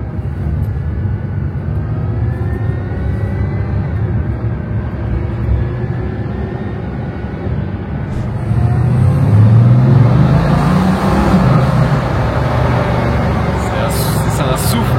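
A white and red Bugatti Veyron gives off a deep, jet-like whooshing engine rush with steady rumble that swells louder midway, heard in a Monaco street setting.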